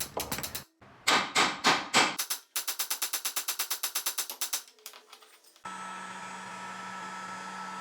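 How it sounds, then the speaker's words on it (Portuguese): A small hammer strikes a large hammer held in place, giving bursts of sharp, rapid metallic blows at a fast steady rhythm, then a steady whirring machine hum takes over. "eu seguro esse martelo grande no lugar e bato com o martelo pequeno em cima"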